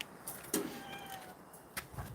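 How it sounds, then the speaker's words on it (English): Cats meow at feeding time indoors, a few short, fairly faint calls with brief clatter and handling noises around them. "we're going to feed the cats"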